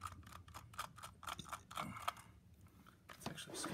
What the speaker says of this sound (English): Come on, little screws, come out.